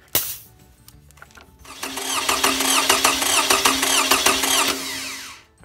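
Toyota Camry engine cranking on the starter during a cylinder compression test, a steady rhythmic whirring churn lasting several seconds after a brief quiet start, fairly loud and close, with no talk over it.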